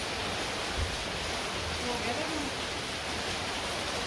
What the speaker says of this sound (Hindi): बारिश हो रही है और ये हमारी छत जो है ये लीक करने लग गई है